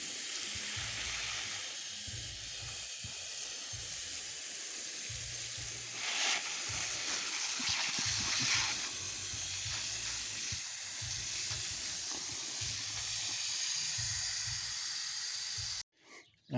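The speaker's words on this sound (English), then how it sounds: "we're going to go ahead and give it a final watering" Steady broadband hiss of water spraying from a garden hose onto a newly planted Arbequina olive tree in Texas, continuous and fairly close for about sixteen seconds, then cutting off abruptly near the end.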